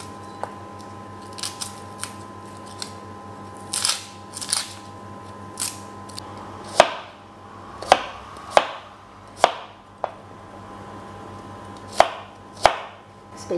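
A knife chops an onion on a cutting board in irregular single strokes, some soft and some sharp, close by with a steady low hum underneath.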